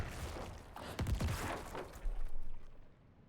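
Cadaver explosions cast by the Necromancer in Diablo IV: a few heavy bursts around the middle with crunching, shattering tails, fairly faint overall, then a fade to near silence.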